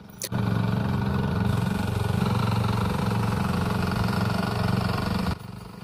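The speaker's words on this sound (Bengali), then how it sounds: "এই মেশিনটি আসলে ডিজেল চালিত মেশিন খুবই ছোট একটি মেশিন" A small diesel-powered plaster finishing machine running at a block company site, a loud steady close chugging drone that kicks in abruptly and cuts off near the end.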